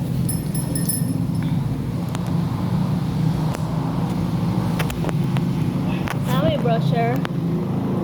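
An ADB 150 motorcycle engine runs with a steady, continuous low drone nearby; a few sharp knocks sound and a voice speaks briefly near the end.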